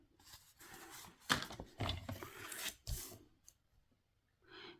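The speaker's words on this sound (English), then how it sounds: "So my cutter, and I will be trimming about there." A paper cutter trims a card base in a series of close, soft rasping and scraping strokes separated by short pauses.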